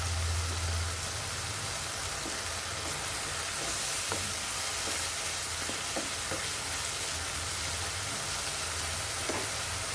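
Spices and garlic fry in a pan for a Bengali mutton curry with a steady, dense sizzle and low crackle. A few faint scrapes and taps of stirring sound throughout, with no one talking.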